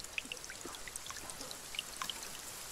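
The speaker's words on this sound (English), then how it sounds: "No, I don't want to drink the water." Soft watery trickling and gurgling from drinking water in the video game The Forest, faint and brief, with scattered little droplet plinks over a quiet background.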